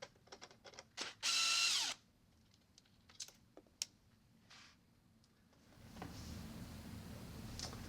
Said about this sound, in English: we'll remove the piston guide screw and washer